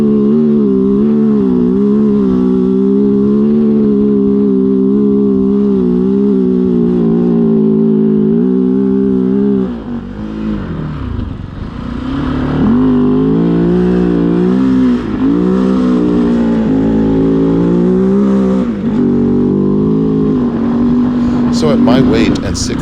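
A Kove 450 Rally motorcycle rides across the sand dunes of Little Sahara in Utah, its engine droning steadily and then surging and dipping as the throttle rises and falls, close and loud throughout.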